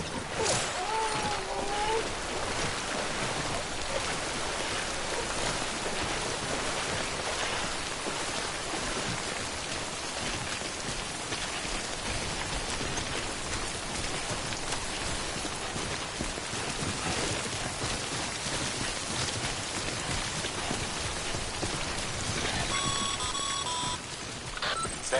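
Rain falls steadily in the Death Stranding game world, a dense continuous hiss of drops on surfaces holding at an even level throughout, with a few faint tonal beeps near the end.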